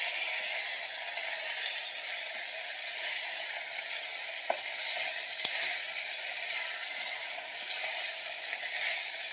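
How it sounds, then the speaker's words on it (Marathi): Vegetables such as pumpkin and capsicum frying in a pan for sambar, a steady soft sizzle running throughout with a couple of faint clicks from stirring, no voices. "छान मम्मी फ्राय करून घेते"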